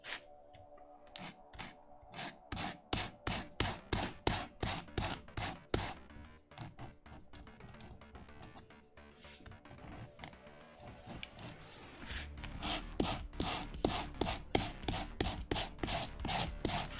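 A leather rougher scuffing leather for a vambrace in brisk back-and-forth strokes, a dense rhythmic series of scratchy rasps, close and clear, with no talking.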